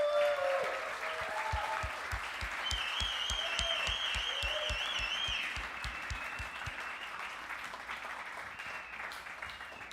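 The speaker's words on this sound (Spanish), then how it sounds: "vamos a darle un aplauso a Dios." A church congregation applauding: a fairly faint, steady patter of many hands clapping that fades slightly toward the end, with a few voices and tones above it.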